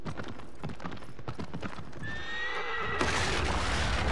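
In Shadow of the Colossus, hooves clip-clop in a steady rhythm, then a horse lets out a loud, high whinny, followed by a burst of noisy rushing sound.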